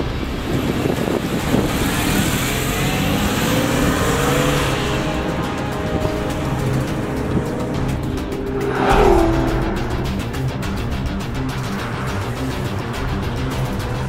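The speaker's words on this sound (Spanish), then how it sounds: "metido dentro de un coche de carreras con un piloto profesional" A Porsche 911 race car driven by a professional on a circuit at speeds near 260 km/h roars loudly from inside, with the engine revving, gears shifting and tires squealing through a corner.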